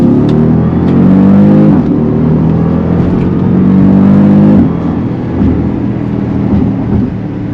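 A Jeep Grand Cherokee SRT engine revs loudly and close by. Its deep, sustained growl swells and eases across several throttle blips, with no talking.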